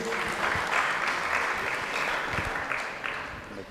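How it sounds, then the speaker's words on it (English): Conference audience at a Mombasa university event applauds at the close of a session, a steady wash of clapping that holds for several seconds before thinning slightly. "Let's clap for Mvuria, tumpigie makofi"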